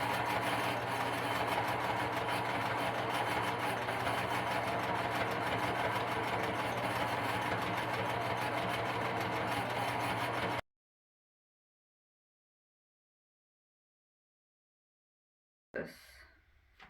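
A sewing machine stitches forward and in reverse on a pillow, its steady motor hum and rapid needle chatter running loud for about ten seconds, then cutting to silence before a brief burst returns.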